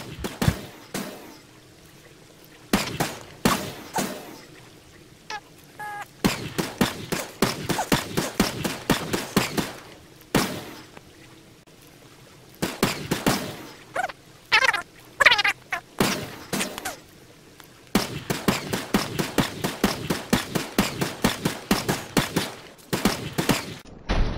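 Sniper rifle fire in Advanced Warfare, comparing the Dr. Moores and Silver Bullet Moores variants while trickshotting: rapid bursts of sharp, loud shots in clustered runs separated by brief pauses, with no talk.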